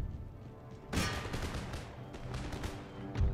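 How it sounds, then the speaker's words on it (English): Musket volley fire in Empire: Total War, a dense crackle of massed shots that bursts out suddenly and rolls on through a noisy battlefield din, with another heavy thump near the end. "The 18th have opened fire."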